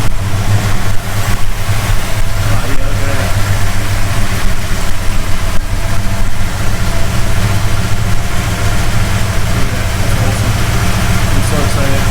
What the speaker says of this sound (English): She's idling, she's running good.